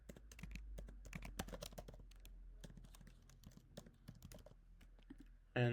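Keys clatter in quick, uneven bursts as a user's email address is typed on a computer keyboard, close and clear, with a brief louder clunk at the very end.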